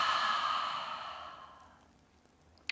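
A long, audible exhale during a vinyasa yoga pose, starting strong and airy, then tapering off to near quiet over about two seconds, close to the listener with no talking.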